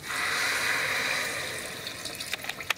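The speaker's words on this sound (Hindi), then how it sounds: "तो मैं इसमें डाल रही हूँ 2 कप पानी" Two cups of water pour steadily into a pressure cooker for a broken wheat and soya chunk pulao, a full rushing stream that slowly thins out and ends in a few splashes.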